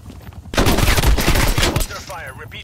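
Gunfire in Call of Duty: Black Ops Cold War during a VIP Escort match: a loud, sustained automatic burst of shots lasting over a second, then a short whooshing tail.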